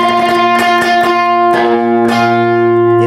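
Electric guitar harmonics ring through an effects unit, several bright bell-like chiming tones struck in turn and sustaining over a steady low note, loud and alone with no talk.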